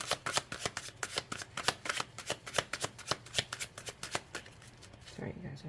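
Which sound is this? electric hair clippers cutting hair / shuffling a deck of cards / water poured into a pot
shuffling a deck of cards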